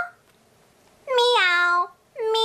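A voice imitating a cat: one drawn-out, clear "meow" sung with a rising then falling pitch, followed by the start of another, in a quiet children's learning setting.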